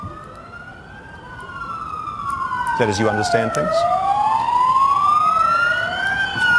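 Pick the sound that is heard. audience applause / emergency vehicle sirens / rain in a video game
emergency vehicle sirens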